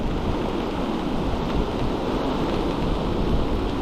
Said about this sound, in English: But it's not pleasant with this rain coming down. It's not hard rain